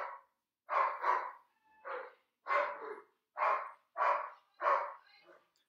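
A dog barks in a quick series of about eight loud, close barks with short pauses between them and no other sound.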